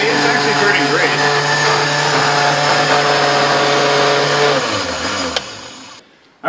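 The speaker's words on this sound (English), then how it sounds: "we have some fresh mint leaves as well that we're going to throw into the blender" A blender runs loud and steady, blending ice cream, milk and fresh mint leaves into a Shamrock shake, a continuous close whir that winds down and cuts off near the end.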